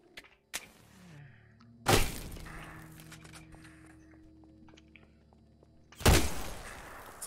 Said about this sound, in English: I think you don't understand how far that grenade got tossed